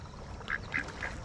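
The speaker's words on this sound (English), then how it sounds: "You must be a park duck." A wild duck at a park quacks three times in quick succession, close by and clear over faint background hiss.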